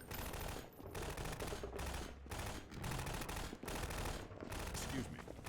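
Gunfire in the shooter game Half-Life 2: loud, sustained automatic bursts that rattle on with brief dips, dense and close throughout the clip.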